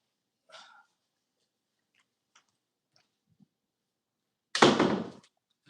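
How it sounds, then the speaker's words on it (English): A door swings shut with one solid, loud thud that closes out a near-silent stretch broken only by a few faint small noises. "Let me close this door."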